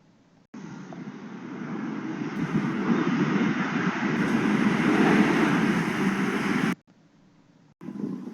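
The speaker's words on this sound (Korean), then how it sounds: "공항 근처라 그런지 확실히 비행기 소리가 많이 들렸어요." An airplane passing overhead near Ulsan airport in South Korea, a broad steady roar that swells gradually and then cuts off abruptly, with quiet background before and after.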